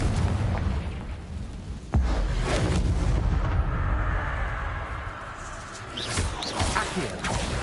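A Confringo spell explosion in Hogwarts Legacy bursts with a heavy boom, followed by a rolling rumble and a few further blasts that fade and swell over several seconds.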